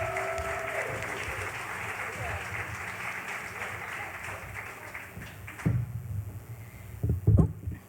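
Audience applause for a comedian fills the room at a comedy night, a steady sustained clapping wash that fades out, followed by a few close knocks and a voice.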